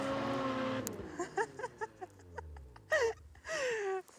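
Engine of a Polaris vehicle as Elise pulls a wheelie, a low rumble sweeping down in pitch with short revving bursts, then two louder sharp rev pulses near the end.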